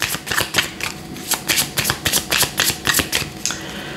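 Tarot cards are shuffled by hand in a quick run of crisp, close riffling bursts, about a dozen rhythmic flutters in a row, alone without any talk.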